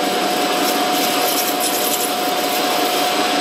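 A metal lathe runs with its carriage feeding along a workpiece while machining a tea kettle whistle, a loud steady mechanical whir with a constant high tonal whine, close and unbroken throughout.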